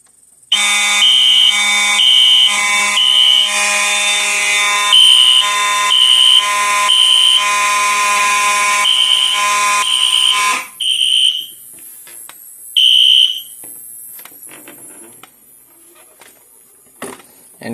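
A Notifier NFS2-640 fire alarm system sounds the clip protocol, a loud continuous electronic tone with a repeating pulsing pattern for about ten seconds before cutting out, followed by scattered clicks and short squeals.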